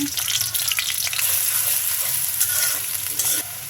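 Onion frying in hot oil in a pan for a prawn curry, a steady, loud sizzle with faint stirring scrapes throughout and no talk.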